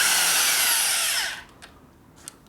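A loud electric drill whines steadily for about a second and a half during a 1972 Harley-Davidson Sportster Ironhead clutch and primary repair, then cuts off, leaving a few faint clicks and handling noises.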